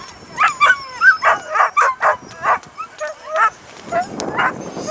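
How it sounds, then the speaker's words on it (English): Dogs from a white husky sled team bark and yip in quick bursts at a camp in a river canyon in the Richardson Mountains, close and fairly loud, trailing off into whimpering yelps. "There's some dogs really making lots of noise."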